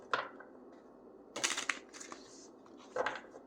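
Tarot cards being shuffled close by: three short papery riffling bursts, the longest in the middle, separated by quiet pauses.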